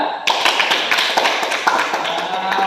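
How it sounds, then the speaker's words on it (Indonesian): Classmates in a school classroom clap together, a dense stretch of overlapping hand claps that starts abruptly and carries on steadily and loudly to the end. "Bagus, tepuk tangan juga"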